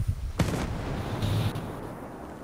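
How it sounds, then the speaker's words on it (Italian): A video game explosion bursts out once, loud and sharp, then fades into a rumbling tail over low background noise, with a softer thud following; no speech. "Stiamo al fucile, pronti all'esplosione."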